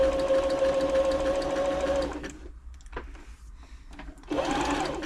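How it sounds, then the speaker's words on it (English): A Brother Super Ace III sewing machine stitches fabric with a steady, close motor whir for two seconds, pauses briefly amid small handling clicks, then starts sewing again near the end. "Just giving it another sew just to make sure everything's smooth, which it is."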